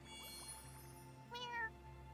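A single short cat meow from the farming video game Wylde Flowers sounds once near the middle, faint and alone over a quiet, steady background hum.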